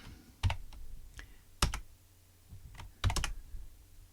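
Keystrokes on a computer keyboard as a card's suit and rank are typed into an old BASIC card game, arriving in three short bursts of quick, close clicks separated by brief pauses, with no voices.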